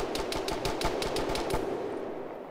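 Rapid automatic gunfire in the military video game Arma, about eight sharp evenly spaced shots in a quick burst, loud and close, then a fading tail with no voices.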